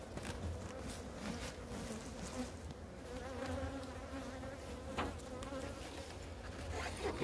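A soft, continuous buzzing of many honeybees at a hive in November drones steadily, with individual bees flitting closer now and then; no talking.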